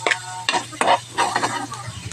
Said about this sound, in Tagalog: Bagisa na po tayo guys. Bawang, sibuyas bombay,